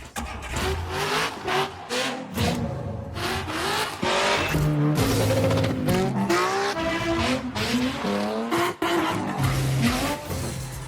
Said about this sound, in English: Literally car engine noises in the theme of Happy Birthday.